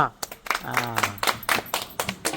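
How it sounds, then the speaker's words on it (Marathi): Children clap at a Ganesh festival gathering, a steady run of sharp, evenly spaced claps mixed with voices talking over them. "टाळ्या वाजवा"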